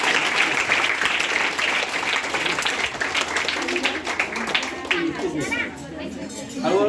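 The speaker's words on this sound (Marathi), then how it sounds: "बरोबर टाळ्या वाजवा त्याच्यासाठी" A classroom of students claps for a classmate, a burst of applause that fades into chatter and voices talking nearby.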